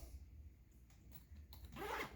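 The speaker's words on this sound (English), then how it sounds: "Zip this up." Zipping up a Veto Pro Pac tool bag, a faint close zipper pull that builds into a louder, quick final rasp at the end, with no talk.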